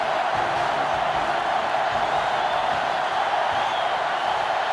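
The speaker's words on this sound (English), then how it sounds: "It's arguably the loudest crowd in the nation, and they are turning it up a notch" Dense stadium crowd roar in NCAA Football 2005 at a Michigan versus Ohio State game, a steady loud wash of cheering that swells without pause.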